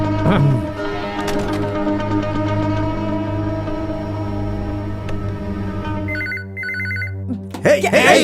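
A telephone rings in two short electronic bursts after a stretch of steady humming drone, with voices breaking in at the end.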